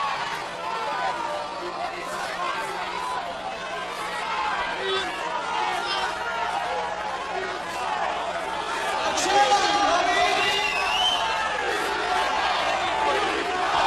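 A large crowd of over 6,000 at an MMA fight in the Blaisdell arena, a steady roar of babble and shouting that swells louder near the end, with scattered voices rising above the din.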